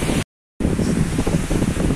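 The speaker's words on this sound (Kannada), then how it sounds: "ಇವನು ಇಲ್ಲಿ ಬಹಳಷ್ಟು ಜೋರು ಗಾಳಿ ಕೂಡ ಉಂಟು" Strong wind buffets the microphone at a seashore near Someshwar, with steady broadband roaring close up, broken by a brief dropout early on before the gusty rush resumes.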